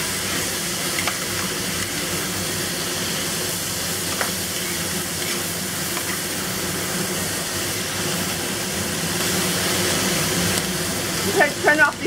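Shrimp with onion and cilantro stir-fried in a hot wok for Sichuan-style dry braised shrimp with crispy pork, a steady broadband sizzle and hiss running throughout, with a few clatters of tossing near the end.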